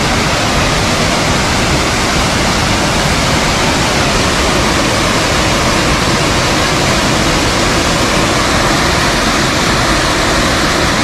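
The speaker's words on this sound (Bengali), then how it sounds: "বিশাল সাইজের একটা ঝর্ণা" Mawsawa waterfall in Meghalaya roaring as a large cascade, a loud, steady broadband rush of falling water filling the whole stretch without pause.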